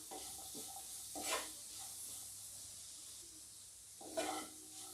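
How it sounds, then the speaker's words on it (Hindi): Chopped cashews drop into a hot pan and sizzle in two brief bursts against a quiet steady hiss of frying, faint and close. "कटा हुआ काजू, इसे डालकर फ्राई कर लेंगे।"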